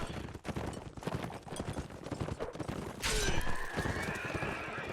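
A horse whinnies in a video game lance battle between mounted fighters, a shrill neigh rising over a dense, continuous din of clashing combat noise, hooves and distant gunfire-like cracks.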